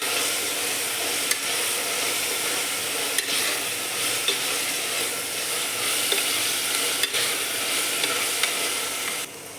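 Onions sautéing in a pan for chicken curry, a loud, even hiss of frying with occasional light clicks of stirring, fading slightly at the very end, no voices.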